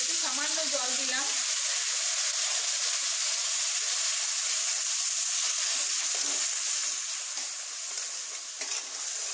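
Spices sizzle steadily in a pan for Bengali shukto after a splash of water, a continuous close hiss with a brief bubbling burst at the start, then evening out over low heat.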